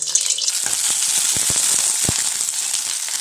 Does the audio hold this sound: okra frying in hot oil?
yes